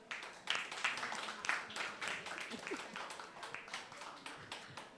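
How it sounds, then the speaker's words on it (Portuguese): Audience applause at an agribusiness innovation panel in Rio de Janeiro, a few seconds of scattered, fairly soft clapping from a modest crowd. "Aplausos, por favor."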